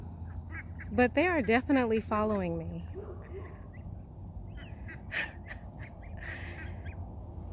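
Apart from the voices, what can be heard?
ducks quacking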